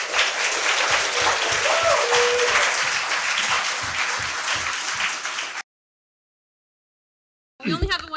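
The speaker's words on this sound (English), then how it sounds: "So give them a round of applause," A crowd at a talk applauds a couple being welcomed to the stage, a dense, steady patter of many hands lasting about five seconds before it stops dead, then silence and a voice starting to speak.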